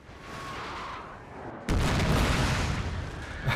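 Cannon fire in Napoleon Total War sounds as a sudden loud booming blast partway through, followed by a sustained rumbling roar of gunfire and battle noise after a quieter stretch of ambient field sound.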